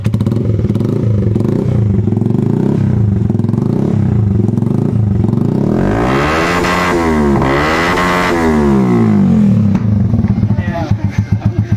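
A motorcycle fitted with an SC Project exhaust pipe revs hard and loud at close range, with a mid-clip rise and fall of revs, while people talk over it.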